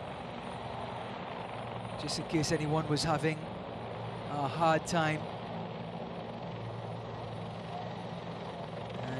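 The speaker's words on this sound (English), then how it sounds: "And there's a helicopter," A helicopter flies over a football stadium during a Guyana versus Suriname Nations League match, its rotor drone low and steady beneath crowd noise while a commentator speaks throughout.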